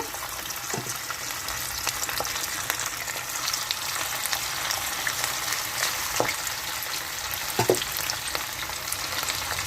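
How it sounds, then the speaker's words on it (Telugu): Chicken pakoda pieces fry in hot oil with a continuous loud, bubbling sizzle, broken by a few brief clinks and stirring scrapes, with no voices. "ఆయిల్ సరిపడా వేసేసుకున్నాము ఏగుతున్నాయండి"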